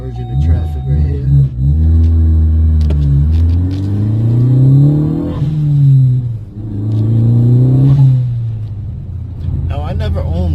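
A 2016 Ford Focus ST turbo engine, heard from inside, rumbles and climbs loudly through repeated acceleration pulls while merging into traffic. Each pull ends as the revs drop at a gear change.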